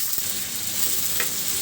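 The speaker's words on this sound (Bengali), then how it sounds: "পেঁয়াজ কাঁচামরিচ ভাজিটা হয়ে গেছে" Onions and green chilies sizzling in hot oil in a kadai, a steady close crackling hiss with a brief stir scrape near the end, no talk.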